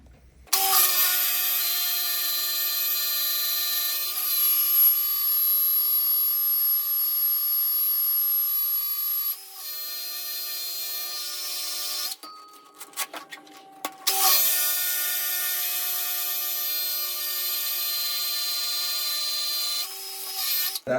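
A car wheel is sanded with 80 grit sandpaper on a powered pad, a steady high whirring hum with sustained tones running for long stretches. It pauses briefly midway with a few scrapes and knocks, then resumes just as loud.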